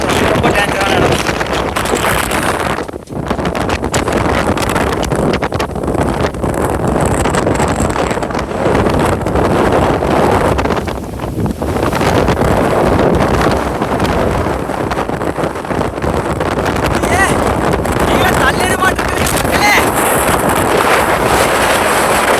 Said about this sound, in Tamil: சரியான காத்துங்க.